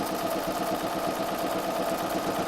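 A sewing machine runs steadily while stitching binding along the edge of a quilt, a continuous close rapid whirr with a fine rhythmic pulse and no voices.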